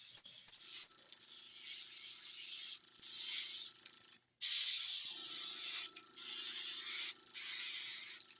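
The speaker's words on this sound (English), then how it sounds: "And just because I can, we're also going to spray this down" Bursts of aerosol spray from a can painting miniatures, five or six hissing blasts of a second or two each separated by short pauses, close and loud, with faint clicks between them.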